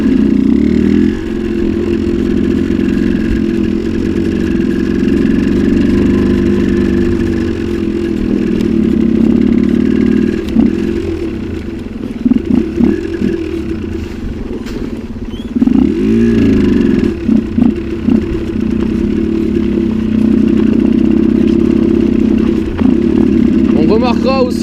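Suzuki 125 TSR trail motorcycle riding off-road on a snowy, icy track, its engine droning loudly and steadily with a few dips and revs, accompanied by clattering and talk.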